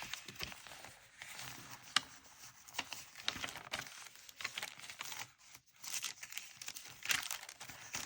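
A paper bag pocket in an art journal is handled, giving close, steady crinkling and soft tearing-like rustles with small cracks throughout, no voices.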